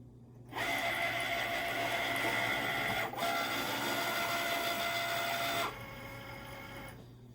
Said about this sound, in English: It says on the computer, cut in progress, so be patient, it will start cutting your design.